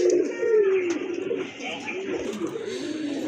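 A male pigeon at a pigeon sale coos close by, giving a run of throaty, rolling calls one after another, with faint voices in the background.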